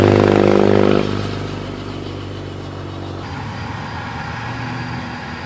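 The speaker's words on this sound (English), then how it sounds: "here comes just another motorbike" A loud motorcycle engine roars close by on a road in Italy, then fades as it moves away, leaving a lower steady engine drone.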